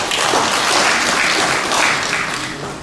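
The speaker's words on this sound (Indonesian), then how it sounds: "Tepuk tangan untuk Bapak Ibu sekalian." A dense burst of applause fills a meeting room for an Indonesian organisation's board, loud and sustained clapping from many hands that eases slightly toward the end.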